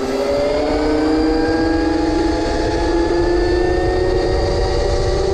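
A mini electric motorcycle accelerating, giving a loud, steady, rising electric motor whine with climbing tonal pitch, close and continuous without pauses.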